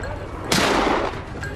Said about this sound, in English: rifle raised, aim, fire.